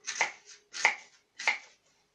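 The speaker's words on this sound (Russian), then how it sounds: "Дальше я, конечно, нарезаю эти яблоки." A knife chops through apples on a board, three sharp, close cuts evenly spaced about two-thirds of a second apart, each landing with a crisp thunk and then a short scrape.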